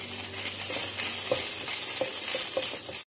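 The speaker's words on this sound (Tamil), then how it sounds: "சேர்த்துட்டு பச்சை வாசனை போற வரைக்கும் வதக்கி எடுத்துக்கோங்க" Ginger garlic paste sizzles steadily in a hot pan while a spatula scrapes and stirs in a few quick, rhythmic strokes, loud and close.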